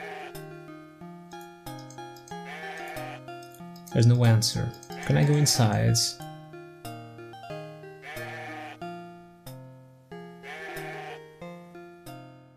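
Sheep bleating in the Conquests of the Longbow adventure game, a loud wavering bleat in two close bursts mid-clip amid game music, with a person talking briefly.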